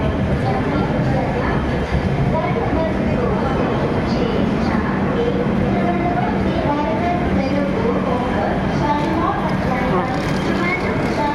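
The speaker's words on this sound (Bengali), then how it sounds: "তিরুবনন্তপুরম শালিমার এক্সপ্রেস চলে এসছে আমাদের সামনে" A Thiruvananthapuram–Shalimar Express train rumbles steadily at close range while arriving at a station platform, with continuous clattering and mechanical noise filling the scene and crowd chatter mixed in.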